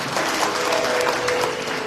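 A church congregation in Gunungsitoli claps during a Sunday worship service, a brief, dense burst of applause that stays level and fills the room throughout.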